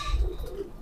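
A Kasuri pigeon gives a short, low coo, close and moderately loud, lasting under a second with no speech.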